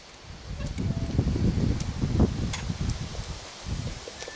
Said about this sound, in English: Windy out. It's windy.